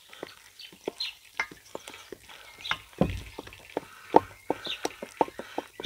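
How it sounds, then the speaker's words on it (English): Seeded low carb bread dough being stirred by hand for a camp oven loaf, with a string of close, irregular wet slaps and scrapes of varying loudness, and no talking. "Just give that a good mix."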